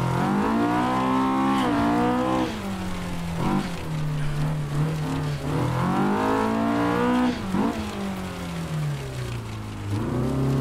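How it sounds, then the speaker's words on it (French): Small Honda K20 engine in a racing sim car climbing through revs in repeated sweeps, dropping at each shift and surging again, loud and close with no talk. "Il rage bien, ce petit moteur."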